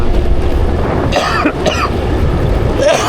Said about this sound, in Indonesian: Batuk Pak.